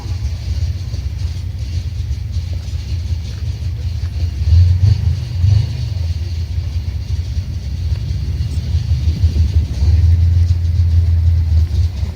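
Low, heavy rumble of an armoured vehicle's 5.9 litre Cummins diesel engine droning continuously, swelling louder a couple of times as it revs, with a faint higher mechanical whine above.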